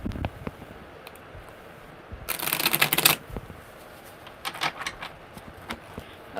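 Tarot cards being shuffled by hand, with scattered soft riffling ticks and one dense, loud burst of rapid card flutter in the middle.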